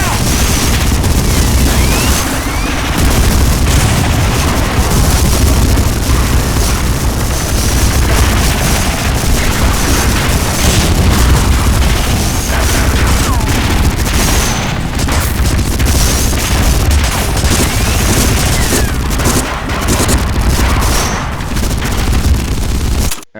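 Dense, continuous game combat from Medal of Honor: Frontline: sustained gunfire and booming explosions fill the whole stretch loudly and without pause, with faint voices buried underneath.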